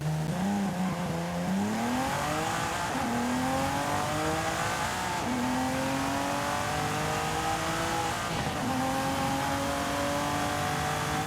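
A 1400 horsepower Nissan 370Z safari race build in Forza Horizon 5, its engine revving loudly and continuously through rising gear pulls with short shifts in between, and tire noise underneath.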